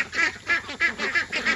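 Young Swedish ducks, about six weeks old, quack at morning feeding time by the coop, giving a steady run of about five evenly spaced, fairly close calls with no talking.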